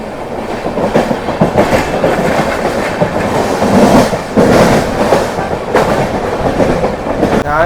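An Ernakulam-Bengaluru Intercity Express with LHB coaches passes close by, loud and steady, its wheels clattering in a rhythmic clickety-clack over the rails with no voices.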